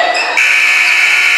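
A basketball buzzer at a girls' game against Calvary sounds loud and close, a sustained electronic tone ending the first quarter that steps up in pitch partway through and holds steady to the end.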